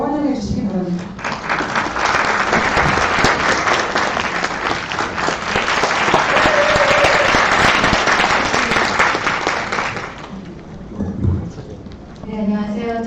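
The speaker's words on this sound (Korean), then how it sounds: "여러분 큰 박수로 환영해 주시기 바랍니다" At a National Assembly forum, an audience gives loud sustained applause to welcome a professor to the podium, about ten seconds of dense clapping that fades into talk.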